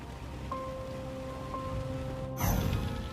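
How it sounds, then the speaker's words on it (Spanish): Heavy rain falling over an airport, a steady dense patter throughout with faint tonal hums, then a sudden louder burst of noise near the end. "el cielo sobre el aeropuerto se oscurece y comienza a llover con fuerza."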